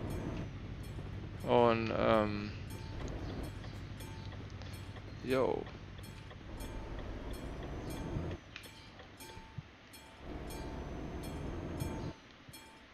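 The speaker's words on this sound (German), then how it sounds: "Und da ist der Zug weg." A train passes in the Euro Truck Simulator 2 driving game: a steady rolling rumble with a regular metallic ticking, like a crossing bell, under someone talking in German.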